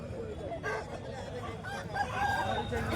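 A cross-breed rooster crows at a busy hen market, its stretched call rising over a background of other fowl and murmuring crowd voices, fairly close and clear.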